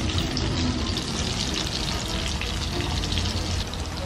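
Slices of Spam sizzle and crackle steadily in a hot pan, a dense even hiss held at a constant close level, with no talking.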